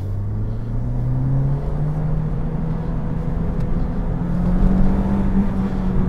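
A 2005 Renault Clio 182 Trophy engine climbs steadily through the revs, a loud, rising drone heard from close up with road rumble beneath.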